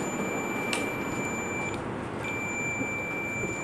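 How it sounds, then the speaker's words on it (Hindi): Digital multimeter continuity buzzer sounding while testing a cooler's selector switch, a steady high-pitched tone held for most of the clip with one brief gap, over a broad background hiss and no speech. "ये इसको मैंने ये बजर पे रख लिया। आपको ये साउंड भी आ रही होगी"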